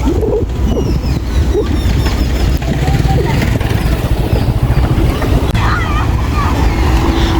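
Waves from a large cargo ship passing on the river at 58 Gate wash in under a steady roar of wind buffeting the microphone, with a low rumble of water and a faint voice in the mix.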